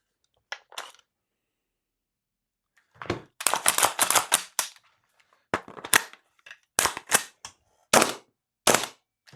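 Airsoft gun fed from a Lancer L5 AWM magazine firing BBs: a few isolated sharp shots, then bursts of rapid, crisp snapping pops close by, with short gaps between strings.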